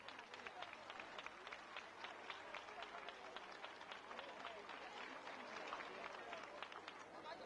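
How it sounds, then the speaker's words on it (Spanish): A crowd at a 1993 senior beauty pageant applauds the second-place maid of honor with faint, steady, distant clapping mixed with murmuring voices. "Un aplauso forte para ela."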